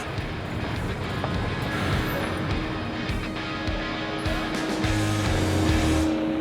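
A semi-truck grinding over a rough road in Cameroon, a continuous loud engine drone and rumble with rattling and clunks throughout, close by and without speech.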